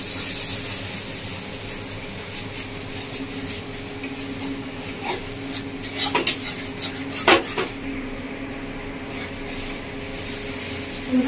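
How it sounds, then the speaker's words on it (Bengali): Chicken being mixed with turmeric and Kashmiri chili powder in a bowl, heard as repeated close clinks and scrapes of a metal spoon against the bowl that grow busier midway, over a faint steady background hum, with no talk. "আর দিয়ে দিচ্ছি 1 চামচ মতো কাশ্মীরি লঙ্কার গুঁড়ো। ভালো করে মিশিয়ে দেবো।"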